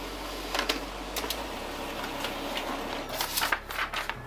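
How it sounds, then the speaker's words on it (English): M6702DW wireless auto-duplex laser printer printing a photo, a steady low mechanical hum with faint repeated ticks and clicks of paper feeding, rising to a busier clatter near the end. "So quickly I was able to print that out."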